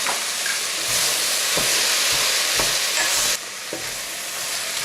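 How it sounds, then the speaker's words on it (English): Carrots with red and green peppers stir-frying in a hot pan for a pork stir fry: a steady loud sizzle with rhythmic scraping strokes of a utensil about once a second, no voices. "So I've kept stirring until the carrots and the red pepper have slightly softened and become warm in the pan"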